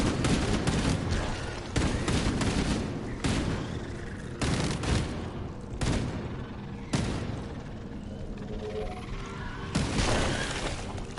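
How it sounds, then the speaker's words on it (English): Rapid automatic SMG fire in the Halo Campaign Evolved game, loud repeated bursts of gunshots separated by short pauses across the whole stretch, with no talk. "That's the SMG now."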